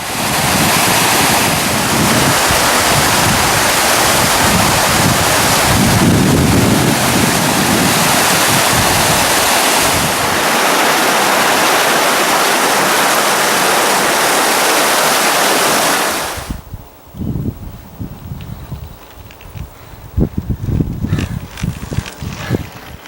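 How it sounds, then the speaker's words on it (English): A waterfall pouring beneath a road along a mountain river, heard as a loud, steady roar of rushing water that cuts off abruptly partway through, leaving quieter wind buffeting and rustling. "the waterfall is flowing right under the road"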